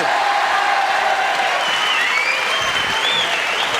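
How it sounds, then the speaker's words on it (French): An audience on the French TV show Coucou c'est nous applauds André Santini with dense, steady clapping that stays loud and even from start to finish, with no one talking over it. "Hop là, applaudissements pour André Santini"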